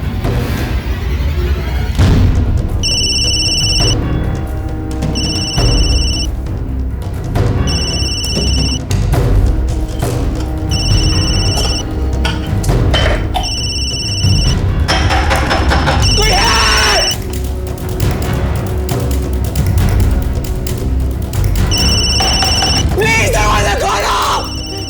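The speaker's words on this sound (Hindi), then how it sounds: "फोन की आवाज तो अंदर से आ रही है, लेकिन ये फोन क्यों नहीं उठा रहा?" A telephone rings inside a house behind a closed door, repeated short electronic trill bursts in a regular pattern, with people talking and calling out over it.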